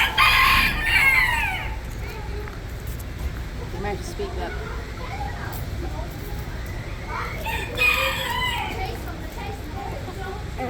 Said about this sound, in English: Another rooster.